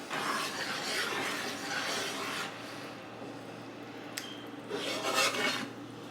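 Cornstarch being stirred into an orange sauce for chicken à l'orange, a steady scraping, rasping rub of utensil against the pot or bowl that runs continuously and fairly close, with no talk over it.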